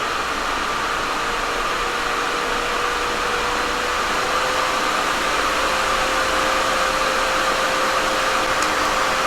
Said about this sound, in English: So the sound of the dust collector itself, even on all three suction levels, were not that bad